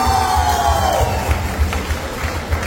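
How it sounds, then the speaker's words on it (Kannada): An audience at a Karnataka Rajyotsava comedy skit cheers loudly in a continuous wash of crowd noise and shouting, heard close and without a break. "ಹೊಡಿರೋ ಚಪ್ಪಾಳೆ"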